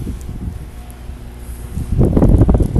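Strong blizzard wind gusting across deep, drifting snow, a steady roaring rush that swells louder toward the end, close and buffeting the microphone.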